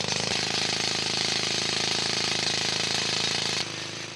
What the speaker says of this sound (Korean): 지층에서 떼어낼 대리석의 윗부분과 아랫부분을 90도 각도로 뚫어서 와이어를 넣을 구멍을 만드는 작업이 진행됐다